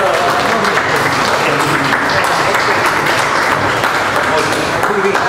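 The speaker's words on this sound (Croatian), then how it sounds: "evo ja sam još nastavio pljeskat" Sustained loud applause from a crowd at the opening of an art exhibition, dense clapping that fills the whole stretch without pause.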